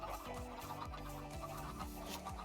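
Chickens cluck repeatedly in a Minecraft chicken cooker, quiet rhythmic clucks recurring every half second or so over a soft background hum, with no voices.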